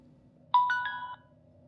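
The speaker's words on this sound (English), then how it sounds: "I hear a chime." A Mubview security camera gives a short electronic chime after a reset: two or three clear, bright tones that start suddenly and ring together for about half a second. They sound alone over faint background hum.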